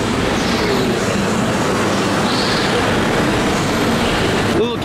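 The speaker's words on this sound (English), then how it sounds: "In the middle of the park is a small kids train ride, La Aventura de Azul" Small kids' train ride rolling through an indoor amusement park in a shopping mall: a steady, dense rumble of wheels and machinery amid crowd noise, continuous and fairly loud throughout, with no clear voices.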